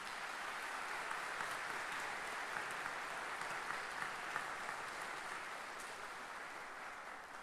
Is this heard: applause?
yes